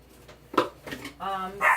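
A dog gives a few short barks and yips, close by and fairly loud, mixed in with a person talking.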